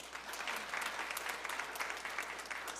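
A church congregation claps steadily for a graduating new member at a praise worship service, the dense, even applause filling the whole stretch at a constant, moderately strong level.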